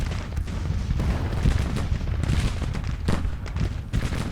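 Continuous battlefield din from Grand Tactician: The Civil War, with rolling musket volleys and deep artillery booms overlapping into a thick, steady roar without pause.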